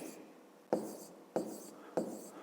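Pen strokes on paper while working out a fifth-grade math word problem, three short scratchy bursts of writing spaced evenly apart, close and fairly quiet with no talk.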